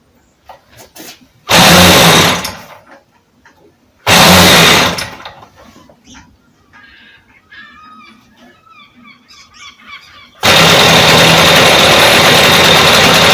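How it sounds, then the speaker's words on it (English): RC glow engine roaring loudly in three bursts, a short run, a second short run, then a sustained run to the end, with quieter mechanical fiddling and small noises in the gaps between. "Okay, I'll shut the throttle down again because I left it open a bit."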